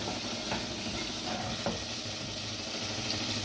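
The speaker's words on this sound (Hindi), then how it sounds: "अब इसको अच्छी तरीके से इस मसाले को मिक्स कर देंगे इसमें।" Masala being stirred into veg biryani in a pan, a steady soft sizzle with light scraping strokes of the spoon, close and continuous with no talking.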